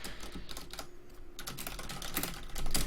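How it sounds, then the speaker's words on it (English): Rapid keystrokes clatter on a computer keyboard as a message is typed into an online game's chat after a 1v1 leaderboard match, close and crisp, with irregular bursts and a slight pause midway. "I think I can type in the chat now."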